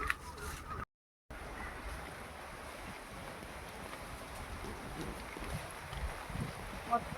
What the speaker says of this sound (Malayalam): നല്ല കാറ്റുണ്ട് കേട്ടോ. മഴ ആയതുകൊണ്ട് ഭയങ്കര കാറ്റാ.